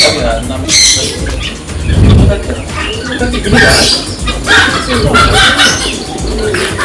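Pigeons, including a black and white one, coo and flutter close by at a large farm house, loud throaty calls repeating over several seconds with a person speaking in between.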